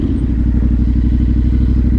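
A Yamaha Ténéré 700 motorcycle engine while riding, a loud, close, steady low thrumming pulse with rapid even firing beats throughout, heard alone.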